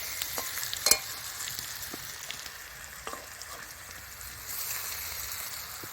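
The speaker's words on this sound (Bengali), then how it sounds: "সেদ্ধ করা কচুগুলো গরম তেলের মধ্যে দিয়ে দিচ্ছি" Boiled taro pieces sizzling in hot oil, a steady crackling fry with a few sharp spatters, moderately close and fairly quiet, with no voices.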